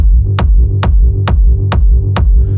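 A techno groove programmed in Ableton plays loudly, with a punchy kick on a steady four-on-the-floor pulse and a deep offbeat bass pumping between the hits.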